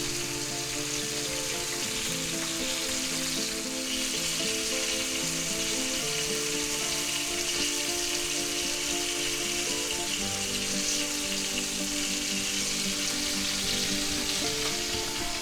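Chicken and vegetables stir frying in a hot pan, a dense continuous sizzle and crackle that stays loud and even throughout, with no talking.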